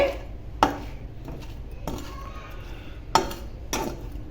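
Stuffed ridge gourd fry with coconut powder being stirred in a pan, sharp scraping clinks of a utensil against metal at irregular intervals between softer sizzling and shuffling.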